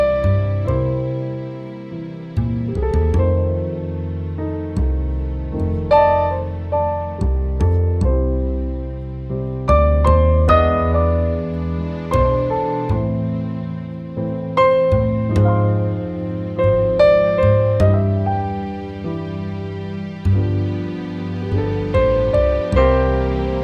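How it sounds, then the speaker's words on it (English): A gospel blues chord progression played on solo piano, full sustained chords moving at a steady, unhurried pace with clear attacks on each change and no voices. "So let's start with a gospel blues progression that sounds like this."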